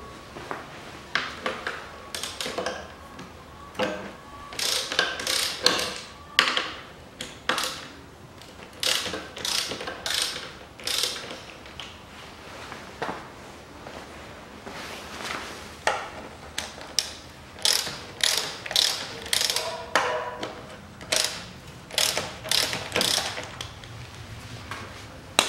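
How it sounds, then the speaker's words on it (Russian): Ratchet wrench loosening bracket bolts on a 1996 Toyota Dyna truck during radiator replacement: bursts of rapid metallic clicking recur throughout, close and fairly loud, separated by short pauses and light clanks of tools and parts. "Откручиваем кронштейны."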